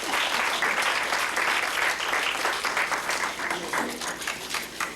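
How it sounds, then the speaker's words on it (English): Audience applause at a Medgar Evers College speaking event, steady dense clapping throughout, moderately distant and filling the hall, with no talk over it. "Lorraine Woods, please give her just a clap to encourage her."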